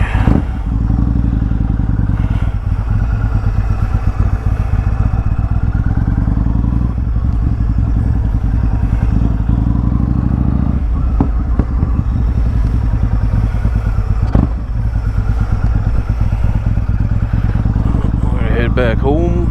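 Harley-Davidson Road Glide-style motorcycle cruising on a road, a steady loud low engine drone running throughout with occasional clatter and thumps, a voice speaking over it at times.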